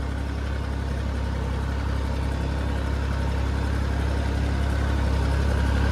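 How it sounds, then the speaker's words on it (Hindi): A John Deere tractor engine runs steadily while driving a rotavator in a farm field, a loud, continuous low rumble with no talk. "जॉन डियर आ गया रोटावेटर चलाने के लिए।"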